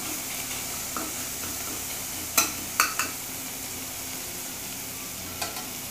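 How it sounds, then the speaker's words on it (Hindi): Spices frying in a pan for a potato cheese bread sandwich give a steady soft sizzle, broken by a few sharp pops and crackles near the middle, with no voices. "एक दो सेकंड थोड़ा सा फ्राई करेंगे।"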